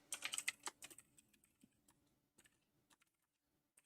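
Rapid bursts of keystrokes on a computer keyboard while coding simple p5 animations, a dense cluster of clicks at first, then sparser, quieter taps trailing off.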